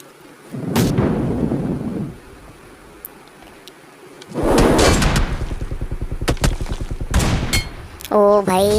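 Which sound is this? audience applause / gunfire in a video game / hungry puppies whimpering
gunfire in a video game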